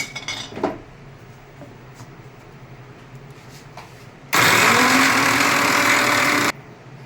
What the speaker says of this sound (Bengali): একই রকমভাবে আমি যে জিরেটাকে শুকনোভাবে ভেজে নিয়েছিলাম সেটাকেও এবার গুঁড়ো করে নিচ্ছি।